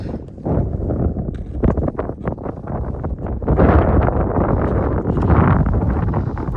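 Strong mountain wind on the trek to Tilicho Lake buffets the microphone in heavy, uneven gusts. The roaring bursts swell louder partway through and stay close and harsh.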